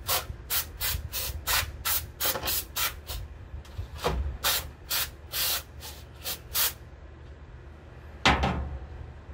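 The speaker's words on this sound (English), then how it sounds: "I'm just going to take the brake cleaner, picked it up at Walmart. Just give it a couple of good sprays on it." Brake cleaner sprays in a series of short hissing bursts onto a Mossberg Maverick 88 shotgun part, close and loud, with quieter gaps between bursts and one final spray after a pause.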